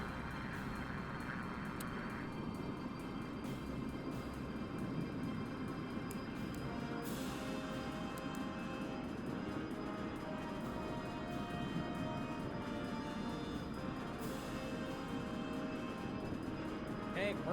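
An F-100D Super Sabre jet engine spools up in a DCS flight simulation, a steady broadband roar filling the cockpit that holds loud and continuous throughout, with faint cockpit clicks on top.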